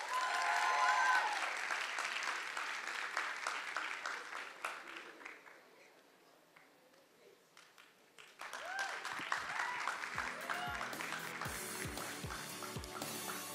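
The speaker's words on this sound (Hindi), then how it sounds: "जोरदार तालियां." Loud applause from an audience at a musical fundraiser greets a performer, with dense clapping that thins out midway and then swells again, joined by a few low thumps near the end.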